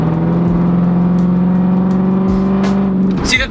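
A 1999 Lexus LS400 with an automatic transmission and V8 engine pulling away, its smooth, steady engine hum loud and close, with a few faint knocks and a brief rustle at the end.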